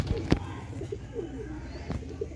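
Sialkoti Sheikh kukkad pigeons cooing close by, a few soft repeated coos with a couple of sharp knocks or wing sounds, and low background noise.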